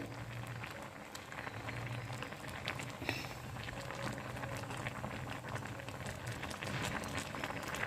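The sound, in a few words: whole tomatoes with salt and green chilies boiling in a pot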